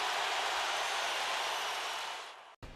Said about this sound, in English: The rain is really coming down, and it's starting to feel like a movie.